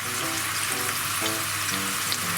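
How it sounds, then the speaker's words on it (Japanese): Char siu pork sears in a hot pan with a steady, dense sizzle and frying crackle, continuous and close, with no talk over it. "もうこれ全面をね、いい感じに焼き色つけていきます"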